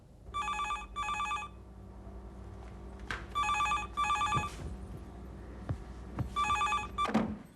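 A telephone bell rings in repeated short double bursts, loud and close, with soft thumps and room noise between the rings.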